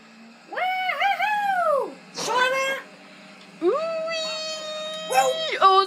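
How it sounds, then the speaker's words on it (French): A cat meows up close in a series of long, wavering, drawn-out cries with short gaps between them, clear against a quiet background. "On va aller poigner le chat!"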